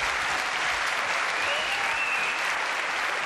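A French television studio audience breaks into steady, dense applause, loud and sustained throughout with no pauses, a continuous wash of many hands clapping together.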